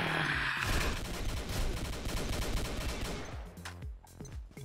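Rapid bursts of gunfire from a double barrel shotgun and other weapons in the online shooter Combat Arms, dense overlapping shots for several seconds before trailing off into quieter clatter.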